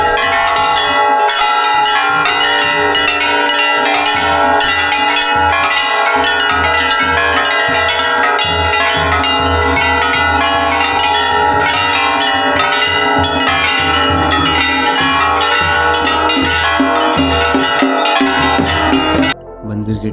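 Temple bells ring continuously at a Hindu temple in Bageshwar, where two rivers meet. The clanging is loud and dense with overlapping metallic tones and barely a pause, then cuts off just before the end.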